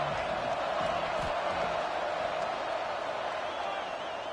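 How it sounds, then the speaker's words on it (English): A steady, loud stadium crowd roar from a TCU home crowd in the NCAA 26 college football video game fills the whole stretch at an even level, with no distinct cheers standing out. "this TCU crowd is still very loud despite them being down 14"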